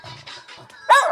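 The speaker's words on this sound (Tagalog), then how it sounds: "Mga aso." A dog barks and yips sharply once near the end, after a run of faint whimpering sounds, close by at a family home with no talk over it.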